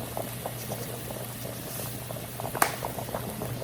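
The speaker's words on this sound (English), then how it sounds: "My potatoes are nicely boiling," Salted water boiling with potatoes in a pot, a steady close bubbling simmer with soft pops and one sharper clink, continuing without a break and with no talk.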